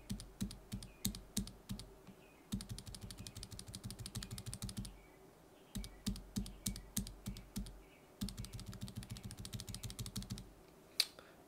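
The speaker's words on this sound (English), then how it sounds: "Here is a stock Zeal switch" Bursts of typing on a mechanical keyboard fitted with stock, unlubricated Zealios V2 tactile switches: quick runs of crisp clicky keystrokes with short pauses between, close and clear with no voices.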